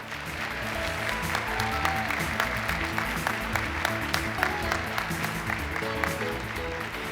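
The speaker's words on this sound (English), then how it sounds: "Please join us in giving these accomplished photographers a round of applause" Sustained applause from an audience at a photography award and degree ceremony, steady and moderately loud throughout with dense overlapping claps and a faint musical tone underneath.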